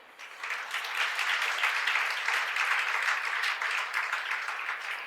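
A church congregation applauds during a Sunday sermon, a dense, even wash of clapping that rises quickly and holds steady for several seconds.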